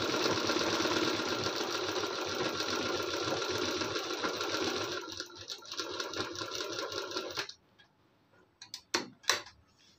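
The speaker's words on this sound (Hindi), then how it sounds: "जैसे जैसे कढ़ाई है वैसे वैसे हमें सिलाई को घुमाते हुए लगाना है।" Sewing machine stitching a blouse neckline along embroidery, a continuous close rapid chatter for several seconds, then it stops and a few sharp handling clicks follow.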